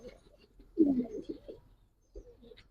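Giribaz pigeons in a loft give a soft, low coo close by, one fuller call followed by a fainter, shorter one, in an otherwise quiet space.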